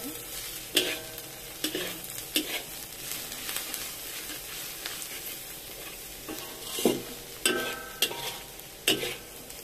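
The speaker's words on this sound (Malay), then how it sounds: "Ini kita masak sampai dia macam ini, dia bawang masak, tidak perlu garing." Onions frying in a pan for sambal, a soft steady sizzle broken by repeated scraping clinks of a utensil stirring.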